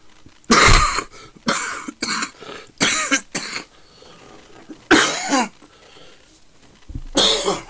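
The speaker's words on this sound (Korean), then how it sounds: "기침이 나오니까" Several harsh, close coughs in irregular bursts separated by short pauses, loud and raspy, with no speech between them.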